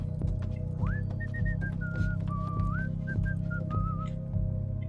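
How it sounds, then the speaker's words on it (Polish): A person whistles a wavering, melodic tune in the video game Thief, with a steady low hum underneath, continuous for several seconds. "Ktoś mi tam gwizdże."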